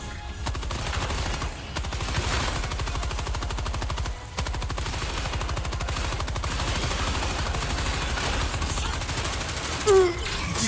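Machine gun fire in Helldivers 2 battle, a continuous loud rapid burst of automatic shots that runs almost unbroken, with a short gap partway and a brief sharp sound near the end.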